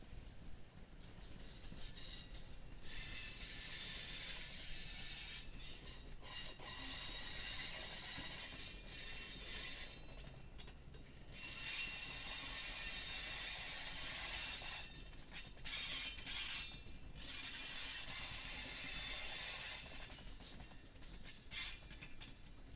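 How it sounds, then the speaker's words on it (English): An Amtrak train with private coaches, pushed backwards to turn around, rolls slowly past, wheels squealing in long high-pitched stretches over a steady rumble and clatter of rail cars, fairly near. "we caught this Amtrak train with private coaches being shoved out to turn the train around"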